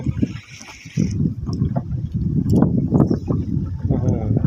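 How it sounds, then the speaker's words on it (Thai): Strong waves and wind around a boat at sea, a rough, continuous wash of water and gusting noise that swells after the first second, with a voice heard at times. "ทามกลาง คลื่นลม แรงเหลือเกิน"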